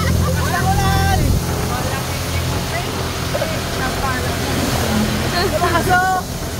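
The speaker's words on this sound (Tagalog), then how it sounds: "Lakas ang ulan, Car!" Heavy rain pours in a broad steady wash of noise while excited voices shout and talk over it throughout.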